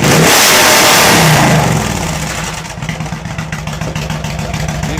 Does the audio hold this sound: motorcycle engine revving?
yes